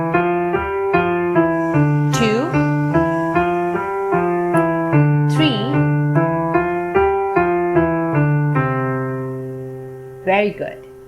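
Keyboard playing a five-finger warm-up pattern from C up to G and back down, repeated several times. The notes are clear, loud and evenly paced, with brief taps between phrases and a fading final note.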